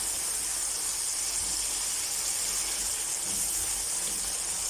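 Chicken liver cooking in a pan gives a steady, even hiss and sizzle, moderately loud and continuous with no talking over it.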